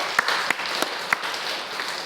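A church congregation claps together in a steady, dense round of applause that fills the room for a couple of seconds.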